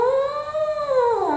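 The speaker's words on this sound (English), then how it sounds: "I actually do it by buzzing my lips into this mouthpiece" A horn player's lips buzz into a detached horn mouthpiece, producing a single nasal, reedy tone that bends up slightly and then sags down, about a second and a half long, close and alone.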